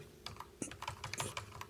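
Quick, light typing on a computer keyboard, a rapid series of soft key clicks close by, no voice.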